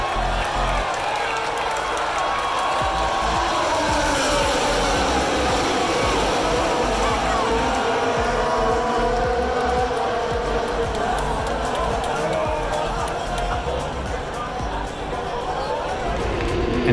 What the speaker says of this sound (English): here's some footage of the race restart after the red flags on the opening lap